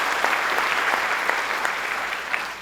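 Applause from an audience at a governor's announcement event for a solar factory complex, a dense, steady round of clapping that holds at an even level throughout with no talk over it.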